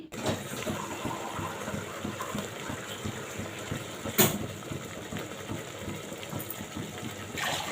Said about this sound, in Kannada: ಈ ಚೊಂಬಲ್ಲಿ ನಾಲ್ಕು ಚೊಂಬು ನೀರು ಹಾಕ್ತೀನಿ